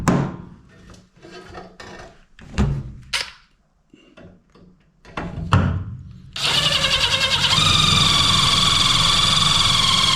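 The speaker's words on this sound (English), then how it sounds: "drill this hole" A power drill starts up and whirs steadily at high speed, loud and close, drilling a hole in a school bus subfloor, after several seconds of scraping and handling noises.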